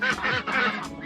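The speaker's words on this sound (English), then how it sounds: "this is where the ducks live. We heard this most of the night" Ducks quack repeatedly beside a campsite tent in Scotland, a close, loud burst of several rapid, nasal calls overlapping one another with no talking.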